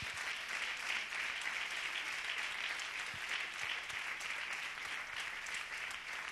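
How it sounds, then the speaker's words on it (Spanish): A church congregation applauds during a sermon, a continuous dense crackle of many hands clapping, steady throughout and somewhat distant. "Da un aplauso bien fuerte al Señor."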